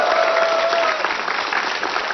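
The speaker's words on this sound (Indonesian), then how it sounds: "Tepuk tangan untuk Mas Gantyo" Audience applause for a guest, Mas Gantyo, at a live talk show, a broad steady wash of many clapping hands filling the whole stretch at full volume, with a brief tonal whistle near the start.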